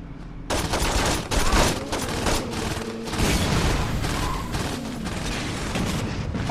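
Heavy gunfire and explosive booms from a Saints Row 2 shootout with rocket launchers, a dense, continuous barrage of shots and blasts running loud throughout with no talking.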